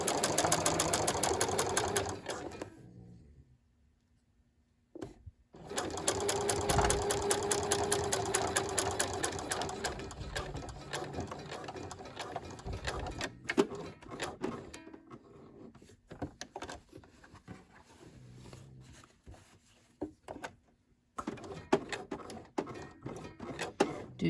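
A sewing machine top stitching a garment back, running in steady rapid bursts with short stops between runs and light handling clicks during the pauses.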